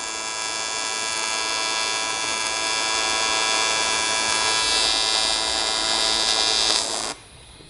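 A TIG welding torch runs steadily under foot-pedal control during a weld repair near an engine's fuel rail port, giving a loud continuous electric buzz and hum that cuts off abruptly after about seven seconds.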